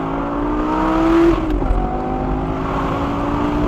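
A 2012 Lamborghini Gallardo LP 560-4 Spyder's V10 engine revs high and pulls hard, its pitch climbing in a sustained roar, then briefly shifts and keeps accelerating loudly and close.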